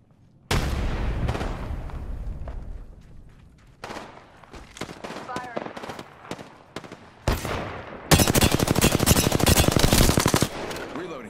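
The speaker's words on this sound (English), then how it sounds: "Firing." Heavy automatic gunfire in the video game Apex Legends, loud sustained bursts that start abruptly, pause, then resume as a dense rapid rattle, with brief quieter gaps and a faint voice in between.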